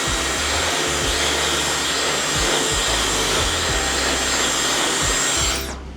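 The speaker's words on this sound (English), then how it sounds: "The trick is really just to blow dry this much of the hair." A hair dryer blows steadily and loudly while a stylist dries a client's hair during a men's haircut fix, a continuous airy roar that holds for about six seconds before cutting off at the end.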